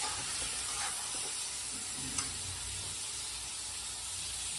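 Chicken gizzard and liver frying in a pan at home, a steady soft sizzle with faint hiss and one brief clink, heard alone without talk.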